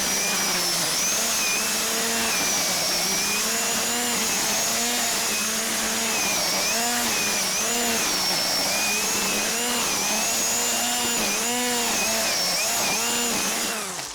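A DeWalt 60V cordless string trimmer runs at high speed, with a loud, steady, whining motor drone that wavers slightly in pitch and carries on without a break.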